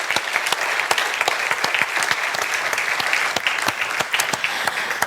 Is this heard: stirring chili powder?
no